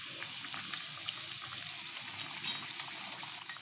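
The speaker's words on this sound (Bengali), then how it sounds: "আস্তে আস্তে ভাজতে হবে, নাহলে ভেতরটা কাঁচা থাকে" Kochuri, thick pea-stuffed puris, frying slowly in a kadai of oil, giving a steady soft sizzle with faint bubbling crackles throughout, no voices.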